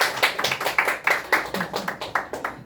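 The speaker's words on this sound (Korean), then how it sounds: "박수" A few people in a lecture room clap, a thin scattered round of distinct, sharp handclaps with an uneven rhythm, heard close and alone.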